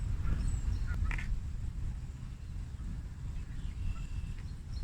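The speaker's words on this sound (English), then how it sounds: "Ducks and geese." Outdoors, ducks and Canada geese give sparse, faint quacks and honks over a steady low rumble of wind or ambient noise.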